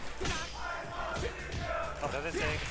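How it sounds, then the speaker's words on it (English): Crowd at a Fatal Fury fighting game tournament event, loud and continuous, with repeated rhythmic chanted bursts over steady roar and overlapping commentator voices. "The crowd is saying ice machine, the ice cream machine."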